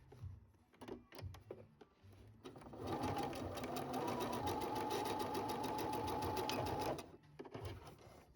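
A sewing machine stitches down the folded edges of a fabric pet bandana, running in one steady whirring burst of about four seconds between a few softer handling clicks and bumps.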